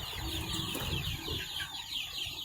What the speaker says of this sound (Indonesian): Banyak juga ayam gitu.